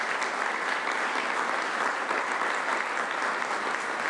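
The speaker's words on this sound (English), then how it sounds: "Let's give Olivia, Jasmine, and our color guard another wonderful round of applause." Audience applause rings out at a San Diego County volunteer recognition ceremony, honoring a color guard and two presenters: a dense, steady wash of many hands clapping together, loud and sustained throughout without voices.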